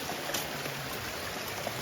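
Steady rushing water flows continuously from a hydram pump project into a village canal, a broad close wash of sound with no voices.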